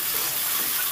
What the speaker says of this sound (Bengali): এবার সুন্দর করে টমেটো, কাঁচা লঙ্কা সব কিছু একটু ভেজে নেব।